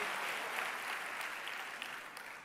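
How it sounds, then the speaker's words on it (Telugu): A church congregation clapping loudly together, a dense, steady wash of applause that carries on throughout without any voices. "గట్టిగా చప్పట్లు కొట్టి దేవుని నామమహింపరచండి."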